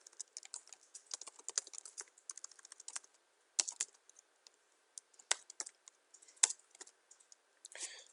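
Code is typed on a computer keyboard in quick, uneven bursts of close, crisp key clicks, with short pauses and a few sharper strokes, no talk.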